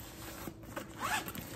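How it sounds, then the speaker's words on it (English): A short zipper pull on the inner zip pocket of the top pocket of a LOVEVOOK large women's travel backpack, quick and close, with a couple of rasping strokes. "a zipper pocket within"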